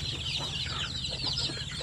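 Chickens clucking steadily on a farm in a close, continuous chorus of overlapping calls, with no talk.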